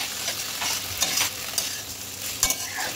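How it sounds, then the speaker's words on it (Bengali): Fried potato and pointed gourd are stir-fried with masala in a pan, with a bright sizzle broken by quick scraping and clinking strokes of the spatula, close and fairly loud with no speech. "এর মধ্যে আমি ভেজে রাখা আলু আর পটলটা দিয়ে মশলার সাথে"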